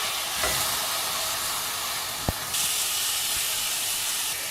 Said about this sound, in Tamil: இதில் நம்ம அடுத்தது தக்காளி சேர்த்துக்கணுங்க